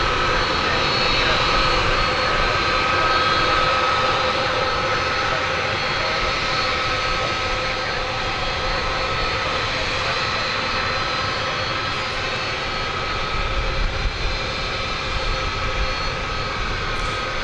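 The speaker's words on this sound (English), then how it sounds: "There's the A300." Engines of an Airbus A300 jet at DFW Airport on a foggy morning produce a loud, continuous roar with a faint steady whine, sustained and close throughout without any voices.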